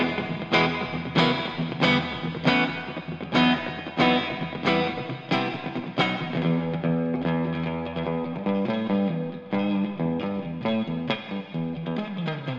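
Electric guitar, a Fender Jazzmaster or Jaguar, played through heavy reverb and some distortion: a run of strummed and picked chords with rhythmic attacks and long washy tails, loud and close with no voice.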